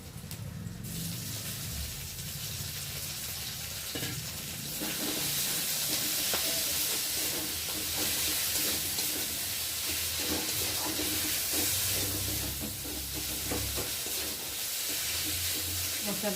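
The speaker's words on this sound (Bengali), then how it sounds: "এখানে মশলা কষানো হচ্ছে" Spice paste of ginger, cumin and garlic with chili powder and chopped tomato frying for a tengra fish curry, a steady close sizzle and hiss with stirring, continuous throughout.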